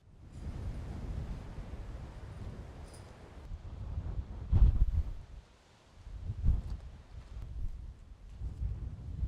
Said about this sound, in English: there was some seriously strong and cold wind in the air